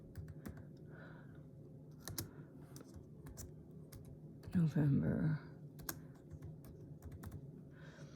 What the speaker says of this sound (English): Whoops, I'm typing on the wrong thing.